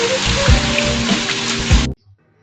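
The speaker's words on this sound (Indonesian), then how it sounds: "Bisa kalian lihat benar-benar butiran es batu." Hail falling in Mexico City: a loud, dense rattle of ice pellets hitting surfaces, steady with heavier bursts, cutting off abruptly.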